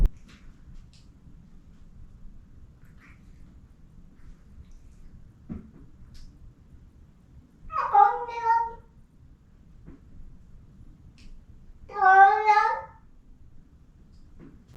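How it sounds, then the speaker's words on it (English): A feral cat found near a residence meows twice, each a drawn-out, wavering cry several seconds apart, clear and close against a quiet, faintly rumbling background. "That is a feral cat that I found around my residence."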